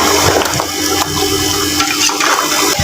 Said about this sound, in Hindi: यहाँ थोड़ा पानी डाला है और इसको भूनना है अच्छे तरीके से